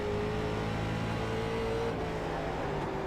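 A late model race car engine in iRacing drones steadily as it accelerates, a loud, continuous motor note with no talking.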